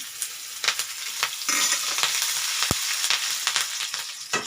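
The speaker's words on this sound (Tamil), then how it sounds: "அரை டீஸ்பூன் சீரகம் போட்டுக்கலாம் கொஞ்சம் ஃப்ரை ஆகட்டுங்க அப்புறம் நம்ம கட் பண்ணி வச்ச ஒரு துண்டு இஞ்சி ரெண்டு பச்சை மிளகாய் அதையும் போட்டுக்கலாம்" Cumin seeds, a piece of ginger and two green chillies fry in hot oil while bread pakoda is made, giving a close, crackling sizzle with small pops throughout and one sharp click of a utensil partway through.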